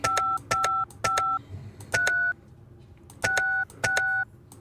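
Telephone keypad dialing tones in a Nancy Drew video game: a phone number punched in as seven crisp, evenly spaced dual-tone beeps, with a short gap in the middle, loud and clear with no talking.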